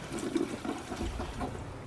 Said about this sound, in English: flush the toilet 3 times as soon as possible